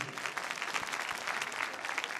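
Audience applause at a televised music talent competition quarter-final, a crowd clapping steadily and evenly at a moderate distance, with no talk over it.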